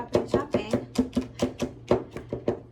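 A knife chopping garlic on a board, about a dozen quick, sharp, close-up strokes in a fairly even rhythm.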